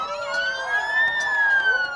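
An ambulance siren sounds on a cleared road in Hong Kong during street protests, a steady rising-and-falling wail held loud and fairly near for two seconds, with no voices.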